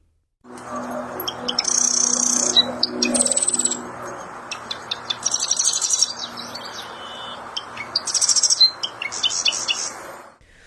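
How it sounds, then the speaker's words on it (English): A marsh wren sings at a Seattle natural area by the water, with repeated buzzy, rattling trills and sharp chirps that recur in bursts over steady background noise, fairly close and clear. "Is that a marsh wren at the Union Bay Natural Area?"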